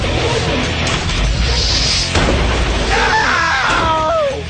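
A cartoon robot smashing and wrecking an island fortress: a continuous loud wash of crashes, bangs and debris under up-tempo music, with a high whining squeal rising near the end.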